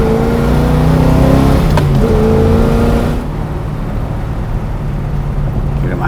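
A 1970 Chevelle SS454 with an LS6 big block V8 out on a test drive, the engine roaring loud and close as it pulls through the gears, then easing to a lower cruising rumble with road noise.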